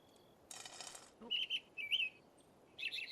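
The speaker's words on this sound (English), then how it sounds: "Oh, these are messenger pigeons." Messenger robins in the video game The Crimson Maid give short, bright chirps in separate bursts, with a brief flutter of wings just before them, set against a quiet background.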